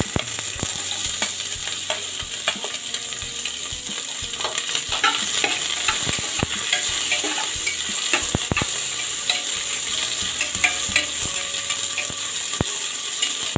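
Sliced onions fry in hot oil for a matar pulao, a steady sizzle throughout with frequent scraping and clicking stirs from the spoon against the pan.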